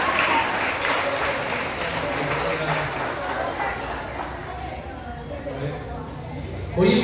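A crowd of children cheering and applauding at a primary school graduation, a continuous mass of clapping and shouting close by that holds steady across the clip.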